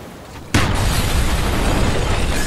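A mortar round detonates in a Black Ops war game, one sudden loud boom after a quiet moment, followed by a sustained roaring rumble of debris and blast noise.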